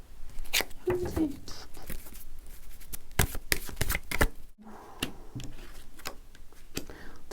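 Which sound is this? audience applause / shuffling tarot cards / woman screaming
shuffling tarot cards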